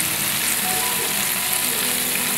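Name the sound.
onions frying and being stirred in a pan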